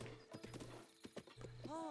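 A white horse in a Zelda game trotting with rapid clip-clopping hooves, then a short whinny rising at the end, with voices talking over it.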